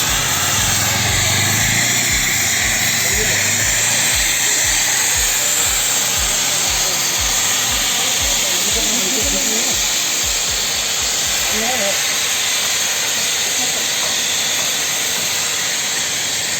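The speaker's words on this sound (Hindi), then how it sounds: "दार्जिलिंग टॉय ट्रेन का स्टीम इंजन" Steam engine of the Darjeeling toy train at Darjeeling station, hissing loudly and continuously with rhythmic chuffing pulses in the first half that fade out, under a steady broad roar.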